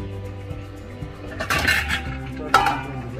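A metal lid goes onto a pot of simmering Agri-style chicken curry: a scraping clatter and clink of metal on metal, then a sharper clink a moment later, close by over a low steady background.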